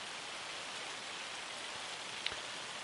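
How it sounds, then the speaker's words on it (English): Steady, even rainfall in the Farming Simulator 25 video game, a continuous broadband hiss of drops on surfaces with one faint tick near the end and no talking. "Oh, it's raining now."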